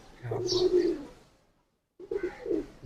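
Green cheeny pigeons cooing in two low, droning bursts separated by a short silence, close and fairly loud.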